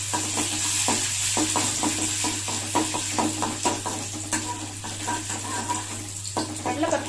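Urad dal and chana dal being stirred into kara dosai (adai) batter: a steady run of soft, close scraping and knocking strokes over a constant low hum, with no talk.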